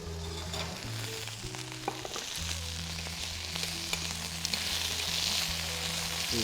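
Rabbit roasting and sizzling in a pan, a dense steady hiss and crackle heard close up, with no voices over it.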